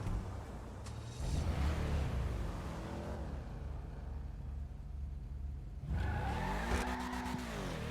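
A car driven in GTA 5, its engine rumbling and revving steadily while the tires squeal at times, then a fresh surge of acceleration with rising engine pitch near the end; no talk.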